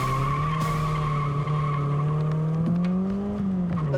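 Tires squealing loudly and continuously as a car drifts through a timed run, a sustained high-pitched screech over a steady engine drone, with the pitch shifting slightly as the slide changes.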